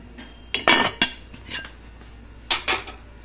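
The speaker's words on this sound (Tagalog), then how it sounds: "Takpan na ulit natin mga ka-safety hanggang sa kumulo." A metal lid is set back onto a cooking pot of sinigang na bangus, giving a few sharp clanks and clinks spread over a few seconds in a quiet kitchen.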